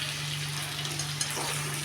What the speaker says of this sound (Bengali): এখন কাঁঠালগুলো দিয়ে দিয়েছি ভাজা করতে